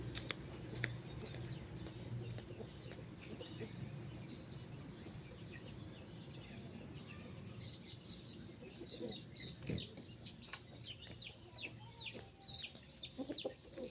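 A hen clucks repeatedly in short bursts, fairly close, over a low steady background hum; the clucking grows busier toward the end.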